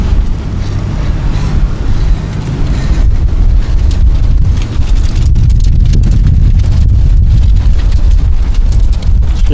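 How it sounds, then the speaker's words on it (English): Strong wind buffets the microphone outdoors on a mild day, producing a loud, constant low roar and rumble that fills the whole stretch with no talking. "Sure glad it isn't too cold today, or that wind would be brutal."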